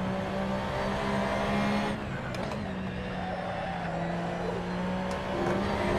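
Porsche 911 GT3 Cup race car accelerating around the Monza circuit in Assetto Corsa, a steady loud engine drone holding pitch with small shifts in tone and a few brief tire or kerb noises, no talking.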